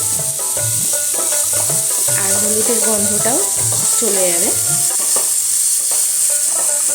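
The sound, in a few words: vegetables frying with salt and turmeric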